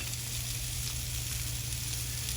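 Onion and garlic frying in a pan for Spam fried rice, giving a steady, close, even sizzle with no breaks and no talking.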